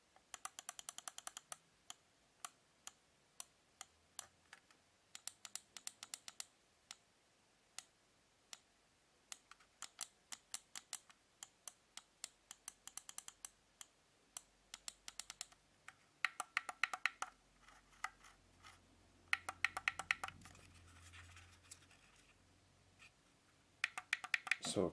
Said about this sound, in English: let's go ahead and of course do a closer up click test